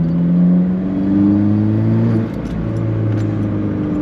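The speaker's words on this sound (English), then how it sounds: "I love hearing turbo intake noises right next to my ears though" A steady, loud engine drone with rising turbo intake whine from a ten-year-old Alfa Romeo 4C accelerating, heard up close from the cabin in front of the rear mid-engine, the pitch stepping through gear changes around midway.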